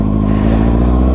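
A motorcycle revs hard and steady for a wheelie attempt, a loud, close engine roar that holds strong across the whole moment.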